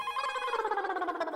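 A telephone rings in a home, a steady warbling electronic ring repeating rapidly and loudly up close, with no voices over it.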